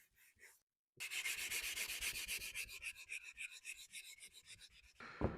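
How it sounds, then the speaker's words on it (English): Rhythmic hand sanding of a wooden box with sandpaper to remove scratches, quick back-and-forth rasping strokes repeating steadily and close up, after a brief scrape and short pause. "I'm just hand sanding those scratches out"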